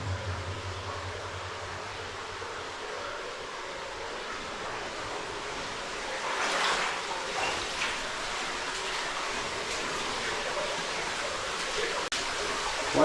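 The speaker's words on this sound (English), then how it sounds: "Quite a bit of water flow back here." Water runs steadily through an abandoned copper mine, a continuous hissing rush that echoes faintly in the underground workings, with a brief swell midway and no talk.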